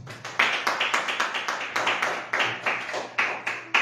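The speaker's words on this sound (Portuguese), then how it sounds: "Glorifica o Senhor com suas palmas." A church congregation claps hands in praise, a steady series of sharp rhythmic claps in unison at a moderate tempo, loud and close with no talking over it.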